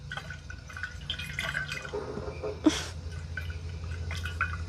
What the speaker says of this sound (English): Why am I shaking my water?